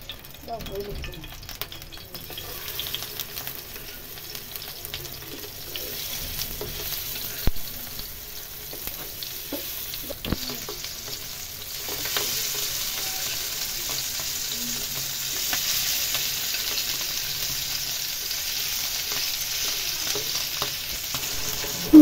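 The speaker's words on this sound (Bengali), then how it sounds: "মাছগুলোকে সুন্দর করে এপাশ ওপাশ হালকা ভেজে নিচ্ছি তেলে।" Spiced fish pieces shallow-frying in oil for a fish curry: a long, even sizzle that grows noticeably louder and fuller partway through, with an occasional faint tap of a utensil.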